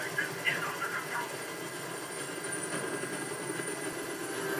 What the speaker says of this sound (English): I can't stand that noise anymore. Tell the helicopter to get out of here!